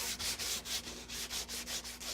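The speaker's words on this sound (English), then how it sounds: "I think I can do it with just a sanding block" A sanding block rubbed by hand across wood on a cabinet being repaired, steady back-and-forth strokes in an even rhythm, about nine soft scraping passes, close and alone.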